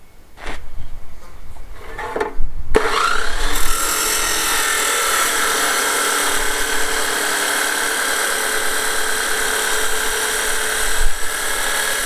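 A few knocks and clatters give way to a loud, continuous power saw cutting through wood, whining steadily for several seconds before stopping.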